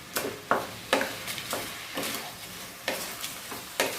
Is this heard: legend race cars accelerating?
no